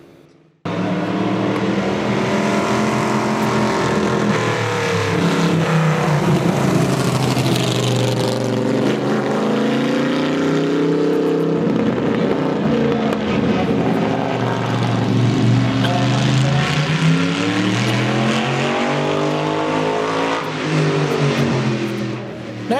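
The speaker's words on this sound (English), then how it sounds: "Next up is the 1961 Chenoweth Championship car" A 1961 Chenoweth Championship race car makes a demonstration run at a Hershey, Pennsylvania car meet, its loud engine roaring continuously and close by, pitch rising and falling as it accelerates and passes.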